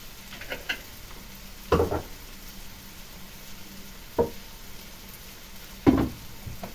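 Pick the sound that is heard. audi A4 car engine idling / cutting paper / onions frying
onions frying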